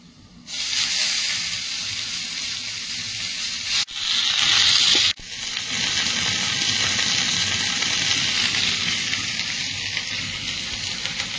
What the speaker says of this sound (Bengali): শাকটা দিয়ে নেড়ে চেড়ে নিয়েছি, শাকটা কমে একদম আলুর গায়ে লেগে লেগে গেছে